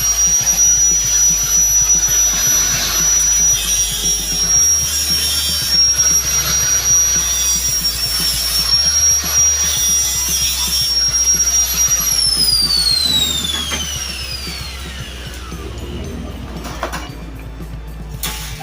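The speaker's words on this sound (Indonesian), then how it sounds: "jadi kita gerinda dulu sebagian di sini, ada di bekas las sedikit ya" An angle grinder grinds down the weld seam on a bandsaw blade with a loud, sustained high whine and harsh scraping. The pitch holds steady, then falls as the grinder spins down near the end.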